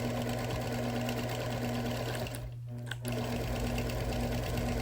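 A sewing machine runs steadily while outline quilting a thick wool quilt, with a brief pause partway through before the motor hum resumes, close and continuous.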